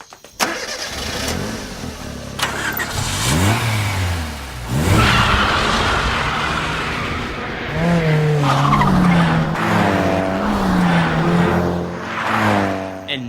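Cars rev and peel away at the start of a nighttime street race in the anime Initial D, with engines climbing through gears, tyres skidding and several vehicles accelerating close by, loud and continuous with brief voices mixed in.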